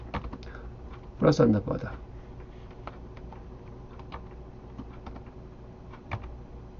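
Keys clatter on a new computer keyboard in a short burst of fast typing, then a few scattered clicks follow under a man's quiet lecture-style talking.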